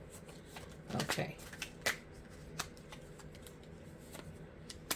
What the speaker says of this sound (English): Just thought I needed to shuffle.